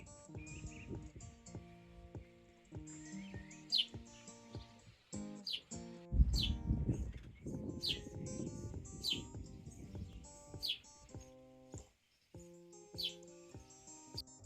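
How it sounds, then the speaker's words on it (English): Young birds fledging in the eaves of a chapel building in the New Forest, giving repeated high, thin chirps scattered through the clip, fairly near, over background music and soft low sounds. "the most noise was coming from these young birds fledging in the eaves"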